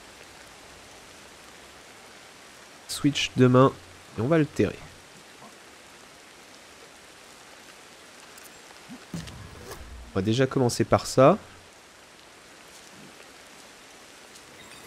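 Steady rain falls in the video game Ancestors: The Humankind Odyssey, a soft continuous hiss filling the background while someone speaks in short bursts over it.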